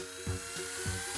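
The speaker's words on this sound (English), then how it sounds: "We're using a 12-inch drill bit here, and we've marked it with some tape so we know when we're 5 inches deep in the block" A power drill with a 12-inch bit bores holes into a wooden bee block, a steady motor whine with a rhythmic low churning pulse as the bit cuts, close and constant, with no voices.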